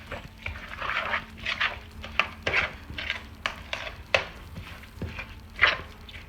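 Souse mixture with thyme being stirred in a bowl, giving soft irregular scraping and sloshing strokes with a few sharper utensil taps, close and moderately quiet.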